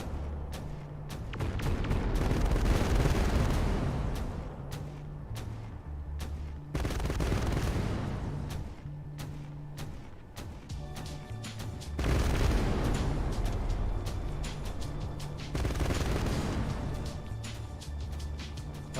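Heavy gunfire in the game Sonora, with repeated loud bursts of shooting and booming impacts rolling in waves over long stretches, separated by brief quieter gaps and a steady battlefield rumble.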